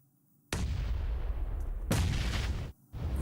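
Heavy grenade blasts in PUBG Mobile on the Miramar map during a pro PMPL Americas match, two loud, close booming detonations with a long rumbling tail, separated by a brief gap.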